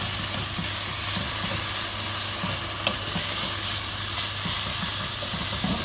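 Tomato puree gets stirred into a frying Bolognese ragù: a constant close sizzle with soft, rhythmic scraping of the spoon through the sauce and one brief sharp clink midway.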